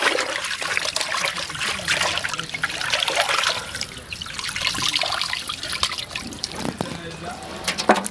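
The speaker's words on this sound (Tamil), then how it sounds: "கறியை நல்லா கழுவி எடுத்துக்கலாம்." Turkey meat being washed by hand in water in a village kitchen, with continuous splashing and trickling close up and some faint background sound throughout.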